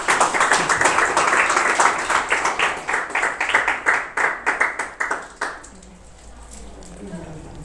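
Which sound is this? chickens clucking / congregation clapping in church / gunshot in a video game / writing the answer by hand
congregation clapping in church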